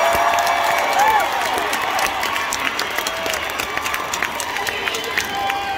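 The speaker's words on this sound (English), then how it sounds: "I once had to give a big round of applause to the dancers" A concert audience at Soaring Eagle Casino & Resort claps and cheers in a loud, sustained wash of applause with scattered whistles and shouts, the dense crowd noise steady throughout.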